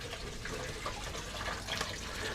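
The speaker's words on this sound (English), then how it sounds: "I'll top that with some water now" Tap water run through carbon filters to top up a koi breeding pond, a steady close rushing gush of water pouring and churning, continuous and even throughout.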